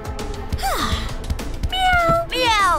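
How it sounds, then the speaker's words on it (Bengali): A cartoon cat gives a series of close, loud meows in varied pitches: a falling cry, a long sustained mew and a wavering, rising one, with background music and effects beneath. "মিয়াও!"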